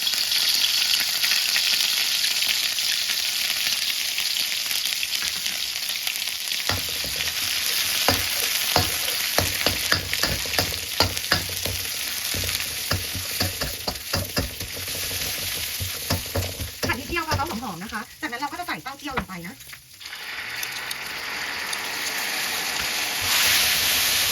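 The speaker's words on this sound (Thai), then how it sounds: "จากนั้นเราก็จะใส่สามเกลือลงไปผัดเลยนะ" Garlic, coriander root and pepper paste stir-frying in hot oil, a continuous close crackling sizzle with frequent scraping stirs and spatula clatter, busier and louder in the middle stretch before settling back to a steady fry, no one speaking.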